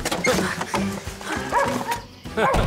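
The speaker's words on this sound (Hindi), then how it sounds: "वहाँ कुत्ते हैं, मुझे कुत्तों से बहुत डर लगता है।" Several dogs bark and yip at close range in quick, overlapping volleys, loud and excited, with a short pause before the barking bursts out again.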